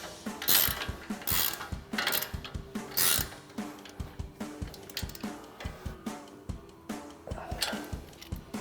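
A 21mm ratcheting wrench tightens a new ball joint nut on an upper control arm stud while a 10mm socket holds the stud, during an ICON suspension lift install: close, repeated clicking ratchet strokes in uneven bursts with metallic clatter, no talking.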